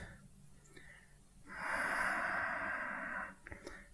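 During a hatha yoga flow, a single long, close exhale through the nose or mouth follows a few soft breaths, breathy and airy against a quiet room.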